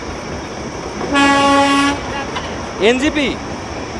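A Darjeeling toy train running on the Darjeeling to Kurseong line, heard from aboard. A loud horn toot rings out for about a second, followed by a shorter wavering whistle over steady rumble, with a voice speaking.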